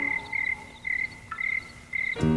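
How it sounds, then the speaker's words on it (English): Insects trill in steady, regularly spaced pulses through a quiet evening, joined near the end by a deeper, louder croaking burst like a bullfrog, with no voices. "I hear a bullfrog croaking all night long."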